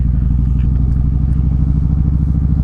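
A motorcycle rides along a road, its engine giving a loud, steady low rumble with a fast pulsing throb that stays constant and close throughout.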